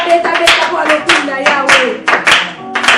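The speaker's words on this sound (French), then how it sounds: "On acclame très fort." A church congregation claps loudly and continuously in a dense burst of applause, with voices mixed in beneath the clapping.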